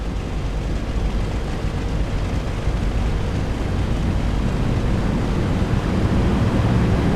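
Engines of a B-17 bomber roar at full throttle in the A2A flight simulator, a dense, steady, loud low drone with broadband rush that holds evenly throughout, with no talking.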